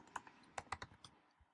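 A few quick keystrokes on a computer keyboard while entering an HTML filename, crisp close clicks in a short uneven burst, quiet, with no voice.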